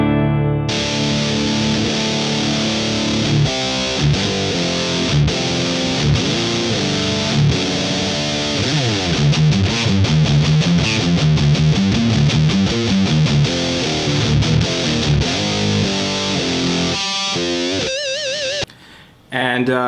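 A Les Paul electric guitar played through a DOD Death Metal distortion pedal with all knobs at noon, giving a loud, dense, saturated wall of chugging, heavily distorted chords that runs continuously before cutting out briefly near the end.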